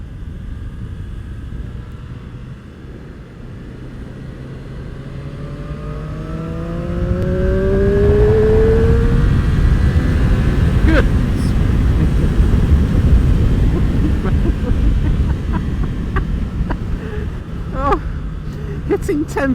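Triumph Street Triple RS motorcycle engine revving to 10,000 RPM in third gear, a rising engine whine that climbs steadily over a constant roar of wind and road noise while riding.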